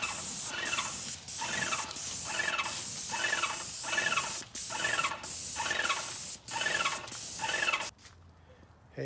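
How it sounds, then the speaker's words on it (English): Rhythmic bursts of a paint sprayer hissing on and off as it coats doors and trim, about a dozen short sprays in a steady pattern, with a faint mechanical squeak between them. "let's start spraying"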